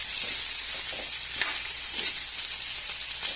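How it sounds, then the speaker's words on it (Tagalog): Chicken feet sizzling and frying in a pan while being stirred, a steady loud crackle with occasional soft scraping strokes, close up and without voices. "Halu-haluin lang po natin yung mga kameses. Kaya siya mag-brown-brown."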